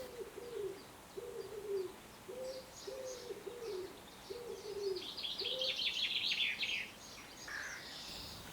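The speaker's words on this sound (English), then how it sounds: "As you can hear, the birds are super loud in my garden." Pigeons or doves coo in a steady low series of soft calls in a quiet garden. Higher chirps and bird song join in later, all fairly faint and distant with no talking.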